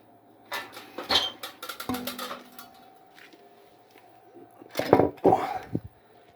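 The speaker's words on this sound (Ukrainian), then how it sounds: "О, і знімаємо кришку." Metal lid lifted off a pyrolysis boiler during servicing, with scattered clanks and scrapes, a sharp knock near the start and a cluster of louder metallic bangs toward the end.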